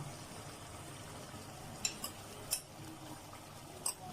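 Boiled chickpeas going into a cooking pan of chicken and being stirred, heard as a few faint, brief spoon scrapes and taps over a quiet, steady background.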